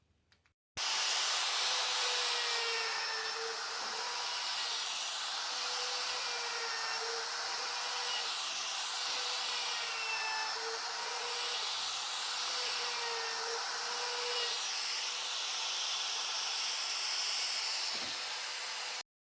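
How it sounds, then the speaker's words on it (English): A hand router fitted with a small round-over bit whines steadily while shaping mahogany edges, starting after a brief quiet moment and running continuously with a faint shifting pitch until a click near the end. "I'm going to take my hand router. I've got a small round over bit in there, and I'm going to do all the edges on this mahogany"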